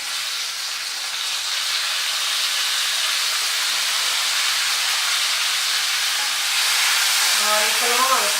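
Tomatoes dropped into hot ghee with cumin seeds give a steady, loud sizzle that hisses evenly throughout, swelling slightly near the end.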